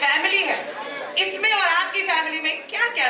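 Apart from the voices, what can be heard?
No everyday noise stands out behind the speech.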